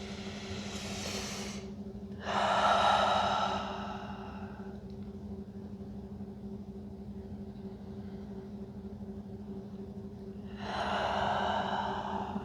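Slow deep breaths during a stretching session, two long audible inhale-exhale cycles spaced several seconds apart, close to the microphone over a steady low electrical hum.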